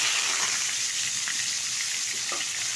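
Chopped onion hitting hot oil with five-spice tempering, giving a steady close hiss of frying with a few faint clinks, no voices.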